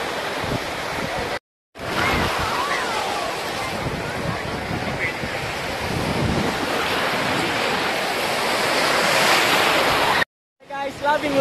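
Ocean surf rolls onto a Salou beach in Spain, a loud continuous wash of breaking waves mixed with heavy wind buffeting the microphone, cut by two brief dropouts, with distant shouting voices faintly underneath.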